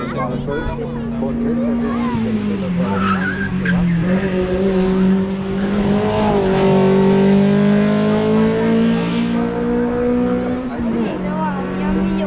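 Race car sliding through a sharp corner at the Rechberg hillclimb in 2023, engine note loud and close with a sustained rising and falling pitch as it drifts, under people talking nearby throughout.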